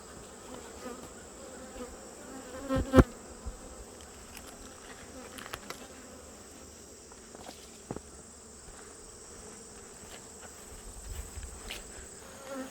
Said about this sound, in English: So I shook a bunch of bees from here down there.